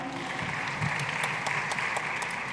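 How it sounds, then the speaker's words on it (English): An audience at a forum on African food systems and nutrition applauds, a steady wash of clapping that holds for a couple of seconds at moderate volume, with no voices on top. "a round of applause for her"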